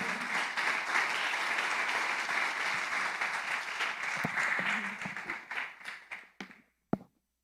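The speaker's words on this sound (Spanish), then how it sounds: "Recíbala con un aplauso por su vida." A church congregation claps steadily for a pastor, the dense applause thinning into a few scattered claps before dying out, followed by a single late clap.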